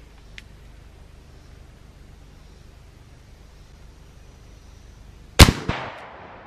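A 454 Casull round fires from a Taurus Raging Judge Magnum revolver at a watermelon about seven yards away, one sharp, loud outdoor report after a quiet stretch, followed by a short echo.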